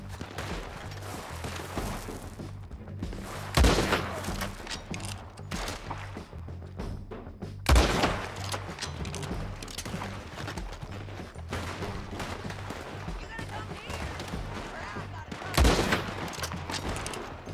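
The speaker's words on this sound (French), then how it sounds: "Je lui tire dans sa tête ou dans son ventre" Gunfire in Red Dead Redemption II, played in first-person view: three loud, sharp shots spaced several seconds apart over a steady game soundscape, with someone talking throughout.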